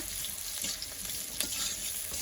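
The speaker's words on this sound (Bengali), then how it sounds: "পেঁয়াজ আর কাঁচামরিচটাকে হালকা করে একটু ভেজে নিতে হবে," Onion and green chili frying in a pan, a soft, even sizzle heard up close, punctuated by a few light knocks of a stirring spoon, with no voices.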